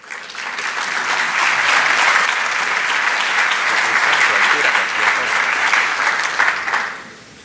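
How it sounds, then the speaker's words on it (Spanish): Sustained, loud applause from a congress audience welcoming a speaker onto the stage, steady for about seven seconds before tapering off quickly. "Recibimos a la señora Susana Arauz Rodríguez con un fuerte aplauso"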